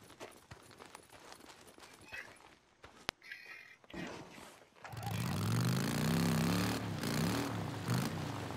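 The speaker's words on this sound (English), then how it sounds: "I wish there was a way to fix the engine where it doesn't make so much noise." Motorcycle engine in Days Gone, first scraping and clattering sounds, then a loud, rough engine roar starting partway through and running steadily to the end.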